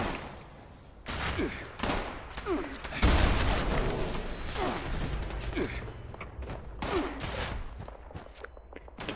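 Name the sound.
gunfire from the video game Fallout 76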